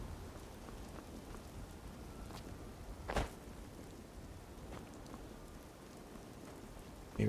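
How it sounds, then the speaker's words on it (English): Steady rain patters softly throughout in the video game Skyrim, with one brief sharper crackle midway and no voices. "It's not that cold. It's just a bit of rain."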